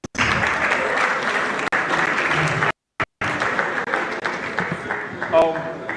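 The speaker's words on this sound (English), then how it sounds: "Can we all clap for ourselves, please?" Audience at a student tech conference claps loudly and steadily for several seconds, with two brief cut-outs in the middle before the dense applause resumes.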